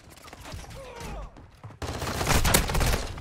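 Shotgun fire in Call of Duty MW2 multiplayer, a quieter stretch of game sounds followed by an abrupt burst of loud, dense gunfire that continues to the end.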